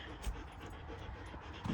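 A dog pants with quick, soft, rhythmic breaths near a horse trailer and truck, faint and steady throughout the brief moment.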